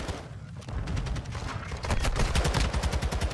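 Rapid automatic gunfire shoots through a wall and gate in a competitive shooter video game match, a dense rattling burst of close, repeated shots that swells louder toward the end.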